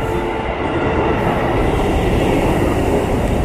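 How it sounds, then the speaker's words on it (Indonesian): A KRL commuter electric train runs close past a station platform in Indonesia, a loud steady rumble with rattling wheels throughout and no talking. "gua kaget ada KRL"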